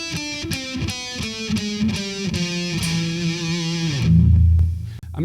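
Distorted electric guitar runs up a Bebop Phrygian Dominant scale in quick, evenly picked notes, then lands on a held low chord that swells louder and cuts off, with no voices.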